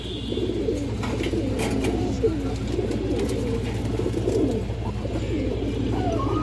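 A male and female pigeon pair, the hen close to laying, coo in low, murmuring rolls near at hand, a continuous throaty burble lasting around six seconds.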